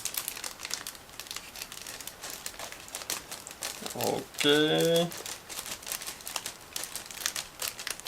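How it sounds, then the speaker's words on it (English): A sealed plastic bag holding grey plastic sprues from a Miniart 1/35 Typ 170V model kit crinkles and rustles as it is handled, with one brief louder crackle partway through and a short spoken word. "sealed plastic bags, so you always have to use scissors in order to open it"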